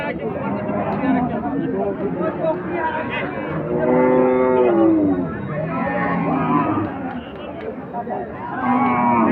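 Sahiwal and Sahiwal-cross cattle with calves low and moo at the Ambari village cattle market, drawn-out calls rising over a busy crowd, while people talk and bargain nearby.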